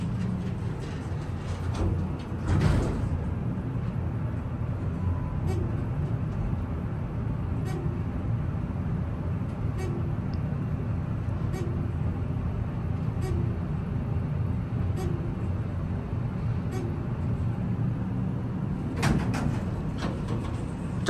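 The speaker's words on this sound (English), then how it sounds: "now we're gonna take a ride on the Dover elevator" A Dover traction elevator in a historic apartment building runs during a ride with a steady low mechanical hum and rumble, broken by periodic faint clicks as it passes floors and a couple of louder knocks near the start and end.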